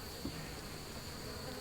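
Honey bees at a horizontal hive hum in a steady, faint drone that holds evenly throughout, with no voices.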